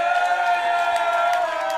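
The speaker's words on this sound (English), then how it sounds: "So you can hear the crowd." Crowd at an Australian water polo league match between UWA Torpedoes and UTS Balmain, a sustained shrill roar of cheering and whistling voices, dense and loud throughout.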